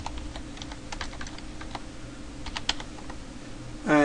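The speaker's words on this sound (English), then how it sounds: "we have to type some string here" Typing on a computer keyboard produces quick, light key clicks in short uneven bursts, close and fairly quiet, ending with a brief louder burst.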